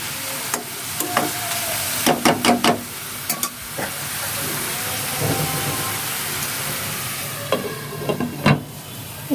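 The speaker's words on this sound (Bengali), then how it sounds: "নেড়ে চেড়ে নিচ্ছি। টমেটোটা গলা পর্যন্ত আমরা অপেক্ষা করি।" Vegetables and tomatoes for shakshuka are stirred and frying in a pan, with a steady sizzle and a few clusters of sharp scraping clicks from the spoon, no talking.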